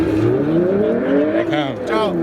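A turbocharged Honda EK hatchback with a B18B engine revs hard toward redline at a car meet, its engine note climbing in sweeping rises and falls over a continuous roar, with voices talking under it.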